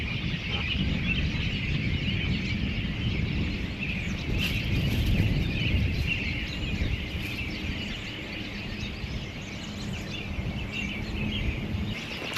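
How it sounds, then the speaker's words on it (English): A noisy flock of migrating birds calling in the woods, a dense, continuous chorus of chattering and gobble-like calls that stays loud and steady throughout, with no talking. "Those birds are going nuts."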